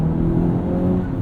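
Engine of a 2020 Honda Civic Type R with active sound control, a loud steady low droning hum heard from inside the car, with no voices over it.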